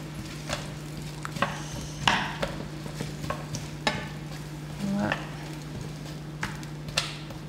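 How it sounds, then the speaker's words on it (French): Onions fry in a pan with a steady sizzle, punctuated by repeated scraping and stirring strokes of a utensil against the pan, close by and without talk. "On va maintenant faire revenir les oignons dans la poêle."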